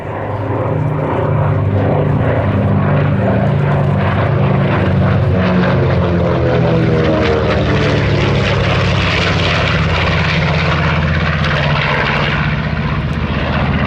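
A Red Bull Air Force propeller aircraft, one of a B-25, P-38, P-51 Mustang and Corsair group at the Sywell airshow, drones loudly and steadily past, its engine tone sliding downward as it goes by.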